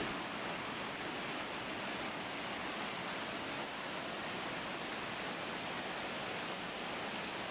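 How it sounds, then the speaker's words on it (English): A small unnamed stream and waterfall, a tributary of Holland Creek flowing through a road culvert, gives a soft, even, continuous rush of water, faint and unchanging throughout with no voices. "Is the lovely little stream and waterfall on the left-hand side of the access road just before you get to Chicken Ladder."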